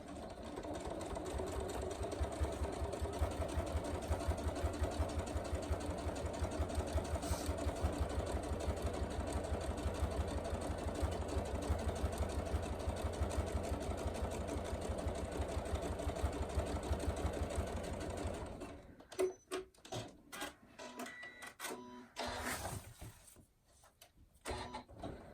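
A sewing machine top stitches close to the edge of a fabric tool wrap, running as a steady, fast, even mechanical whir and rattle for about eighteen seconds before it stops, followed by softer handling clicks and rustles.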